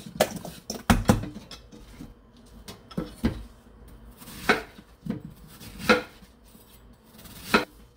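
A knife chops a pear into chunks on a cutting board, with sharp, close thuds landing irregularly about once or twice per second over a quiet background, and no one speaking.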